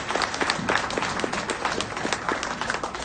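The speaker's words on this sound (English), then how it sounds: "A round of applause to all of our panelists, please, as they are asked to take their seats." Applause from a seated audience for panelists at a judicial independence forum, steady dense clapping at moderate volume throughout the short stretch.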